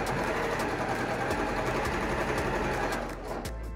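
A sewing machine stitching a seam on a bias cut tee, running as a loud, fast, steady mechanical whir with rapid needle ticking, close up, before slowing and stopping near the end.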